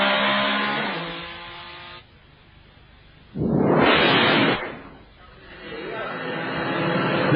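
Number 50 Pennzoil Porsche race car in an FIA GT race at the A1 Ring, its engine roaring loudly past in a strong swell, with the circuit's hum before and after under a commentator's voice.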